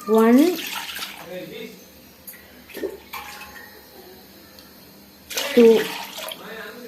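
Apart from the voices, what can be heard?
water poured into biryani by tumbler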